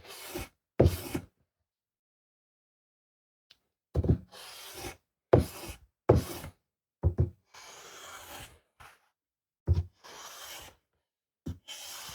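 Axe head being sanded by hand with sandpaper, close, dry rasping strokes in irregular bursts separated by silent pauses, some strokes short and sharp, others longer and smoother.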